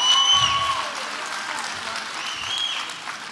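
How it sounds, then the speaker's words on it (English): A crowd at a South African Muay Thai fight night applauds for a few seconds, clapping fairly loud at first and then easing, with a voice ringing over a PA near the start and end. "one other round of applause for the man holding the belt in the middle of the ring here, Nicholas Radley."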